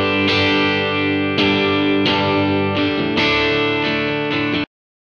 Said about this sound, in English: I've got the same guitar track, and I've got it going to objects in those same positions as the pink noise.